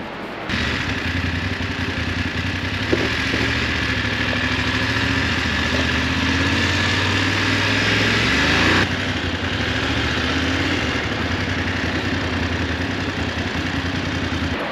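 An adventure motorcycle idles close by with a steady, slightly clattery, tractor-like rumble that holds throughout and shifts a little in tone near the end.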